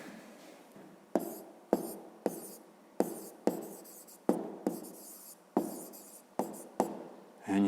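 A pen writes numbers on paper at close range, a series of about a dozen short scratchy strokes separated by brief pauses, with no one talking.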